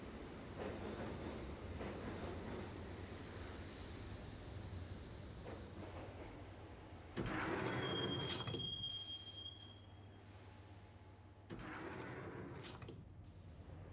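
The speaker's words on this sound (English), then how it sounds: "the train doors had already shut behind me, and I was in for the ride" Subway train ride in the video game Max Payne, heading for Roscoe Street Station in New York: steady rumble of rail cars with high squealing wheels and abrupt shifts in the clatter, continuous and fairly close.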